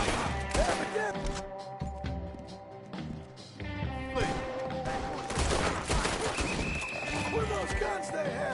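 Scattered gunshots ring out in a PS4 video game, mixed with galloping hooves, in-game character dialogue and background tones.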